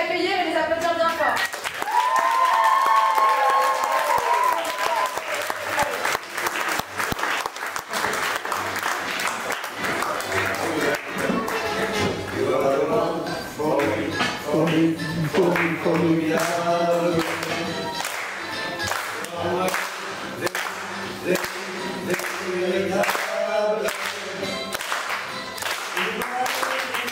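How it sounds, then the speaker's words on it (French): A theatre audience at an international dance and theatre workshop applauds a teenagers' improv performance. The clapping is mixed with voices and tonal sounds, and people talk over much of the long stretch. "Et bien on peut les accueillir et les applaudir bien fort."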